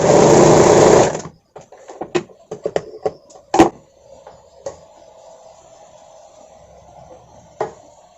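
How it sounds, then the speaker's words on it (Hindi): A sewing machine stitches a blouse in a short loud burst of about one second, then stops, followed by scattered clicks and handling noises of fabric and machine parts. "ये देखिए सिलाई कर लिया।"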